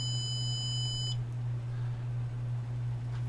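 A Siglent SDM3045X digital multimeter in diode mode gives a steady electronic beep for about a second, then cuts off, leaving a constant low hum underneath.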